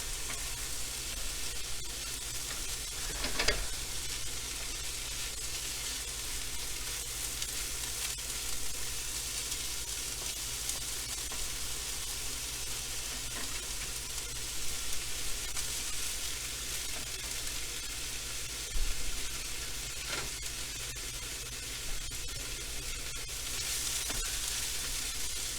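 Kimchi fried rice sizzles steadily in a pan as it is stirred, a constant close frying hiss with occasional scrapes and clacks of the utensil.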